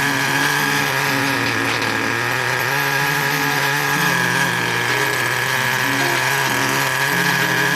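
An OS 15CVR nitro engine in an HPI Nitro RS4 RC car warms up at idle, giving a steady, loud, high-pitched buzzing drone with a slightly wavering pitch that runs alone for the whole stretch.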